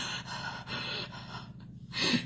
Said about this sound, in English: Breathing through your mouth.